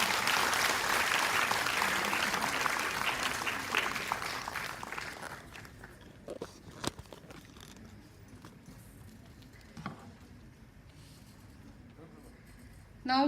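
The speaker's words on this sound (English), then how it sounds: "Please give a big round of clap," Audience applause at a medical conference in a college hall, steady clapping for about five seconds that then dies away, leaving a quiet room with scattered thumps and small handling noises.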